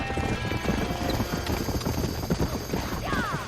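Galloping horse hooves in Red Dead pound in a fast, steady rhythm, loud and close, with a brief whinny near the end and faint game commotion underneath.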